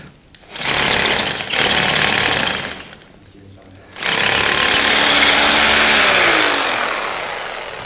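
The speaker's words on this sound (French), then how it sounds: "et on fait des trous aux emplacements prévus" A hammer drill with a 14 mm bit bores holes into a concrete stair base in two long, loud, close rattling bursts separated by a short pause, the second burst running several seconds before winding down.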